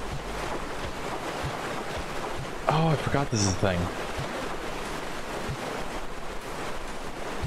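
Wash of splashing water and surf in the video game Owlboy, a steady broad rushing that runs throughout, while a voice speaks briefly near the middle.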